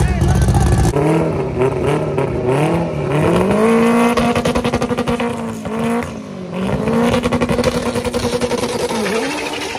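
A red race car's engine revs loud and close, its pitch climbing and dipping through repeated throttle swells, with voices faintly underneath.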